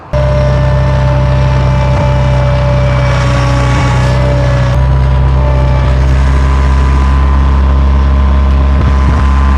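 Truck towing an abandoned Massey Ferguson tractor home on a gooseneck trailer, a loud constant engine drone with road rumble from inside the cab, no talk.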